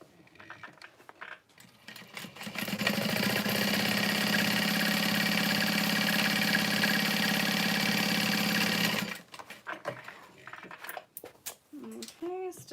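A sewing machine top stitching through leather for a bag runs in one steady, close, continuous rattling burst of several seconds, with handling clicks and a few brief spoken words before and after.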